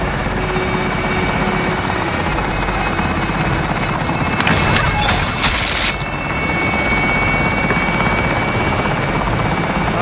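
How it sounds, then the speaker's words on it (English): A helicopter in the video game Call of Duty: Modern Warfare drones steadily with a loud, constant rotor roar throughout, with a brief burst of brighter noise midway. "Helo is in position for your deposit."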